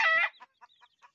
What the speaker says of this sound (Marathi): हा कोंबडा आहे आणि दाढीवाला कोंबडा आहे